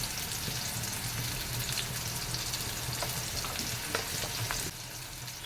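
Onions sizzling in hot oil in a pan while chicken is being cooked, a steady continuous crackle with occasional louder pops and stirring, close and fairly loud with no talking.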